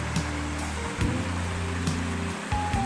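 A rushing mountain valley stream near Deungseon waterfall in a rocky gorge on Samaksan, Korea, giving a steady broadband water roar close by, with some tonal hum and a few brief knocks.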